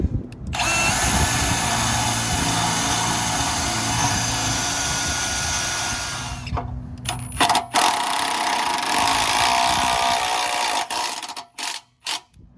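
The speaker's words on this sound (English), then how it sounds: "we're gonna pre-drill the hole and then mount it." A power drill pre-drills a hole with the supplied bit to mount a Hensley hitch, running loud and steady for about six seconds, then several shorter bursts and stops with brief gaps between them.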